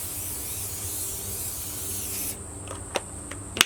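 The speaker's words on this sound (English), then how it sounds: "I'm just going to finish off with a little bit more spray oil over the top." Cooking oil sprays from a spray bottle over potato wedges, a long steady hiss lasting about two seconds, then a few short sharp pumps and clicks of the nozzle close by.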